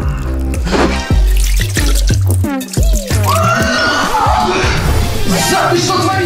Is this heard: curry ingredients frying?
no